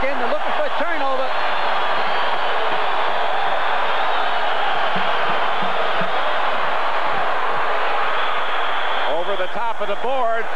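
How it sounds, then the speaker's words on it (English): Basketball arena crowd at Freedom Hall, Louisville, roaring steadily throughout a close 1985 college game, a dense loud wash of cheering and shouting, with a commentator's voice talking over it at the start and end. "Just the two foul shots brought the crowd back in."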